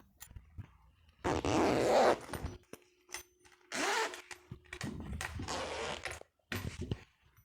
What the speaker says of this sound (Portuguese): agora a gente já pode colocar os cursores, né?